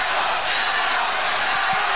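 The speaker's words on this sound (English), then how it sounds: "Yeah, the crowd are going crazy." A crowd at an MMA fight night roars and cheers continuously, a dense, steady wall of excited voices from the arena.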